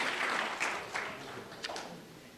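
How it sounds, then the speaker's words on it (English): An audience at a youth unity rally claps for the young people, a soft, distant patter of applause that is steady at first and then fades, with a few sharper claps near the end. "Let's give them a hand clap."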